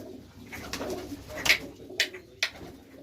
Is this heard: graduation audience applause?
no